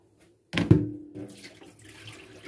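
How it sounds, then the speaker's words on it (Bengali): Tap water running briefly over cut chicken pieces being washed in a kitchen, starting with a sudden splash and settling into a steady, moderate stream, nearby and alone. "আর এই যে মুরগির মাংসগুলো আমি পিস পিস করে কেটে রেখেছি, জাস্ট ধুয়ে বসিয়ে দেব।"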